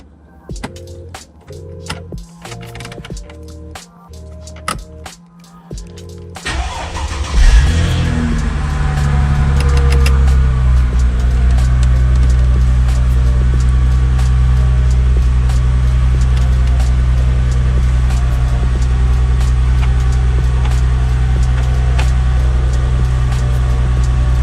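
A car engine cranks and catches after a stretch of irregular clicking and knocking, then settles into a loud, steady idle that runs without a break through the rest of the clip.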